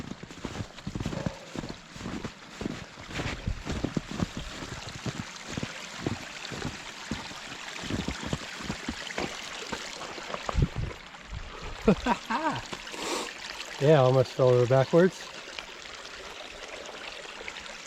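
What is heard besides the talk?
small creek flowing over a trail crossing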